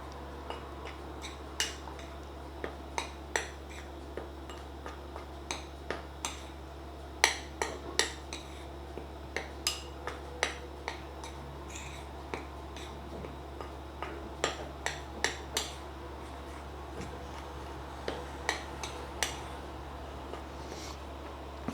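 Flour and baking powder are stirred together in a bowl for a Charlotte berry cake, a utensil knocking and clinking against the bowl's sides in irregular taps over quiet background hum.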